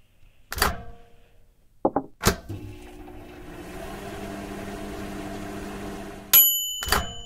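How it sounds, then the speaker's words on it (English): A microwave oven hums steadily in a kitchen after a door closes with a thunk, its low drone running for several seconds before a beep and another clunk of the door. "Did you just microwave it?"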